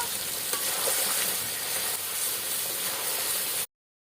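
Mutton and whole garam masala sizzle loudly in a frying pan, with continuous stirring and a dense frying hiss that cuts off abruptly before the end.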